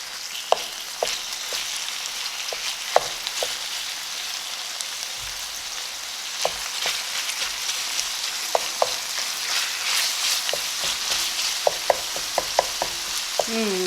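Ground meat sizzles in oil for a pasta meat sauce, with sharp scattered clicks and taps as a spoon or wooden spoon breaks up the chunks, growing busier toward the end; no talking.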